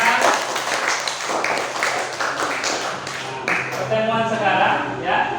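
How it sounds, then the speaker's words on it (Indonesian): Classroom applause for students who answered correctly, a dense run of many hands clapping steadily near and loud, with children's voices mixed in. "Kasih tepuk tangan untuk kawan-kawannya sudah menjawab dengan benar."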